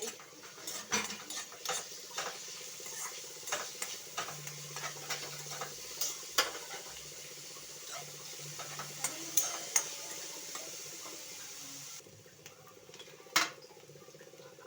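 Onions fry with cumin in a pan as a spoon stirs, giving repeated light clinks and scrapes against the metal over a soft background sizzle, with no voices.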